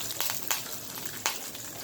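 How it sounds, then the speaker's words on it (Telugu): Curry leaves sizzling in hot tempering oil with dried chillies: a dense, steady hiss of frying with a couple of sharper crackles and pops standing out, close and fairly loud, with no voice. "తర్వాత కరివేపాకు వేసుకోండి."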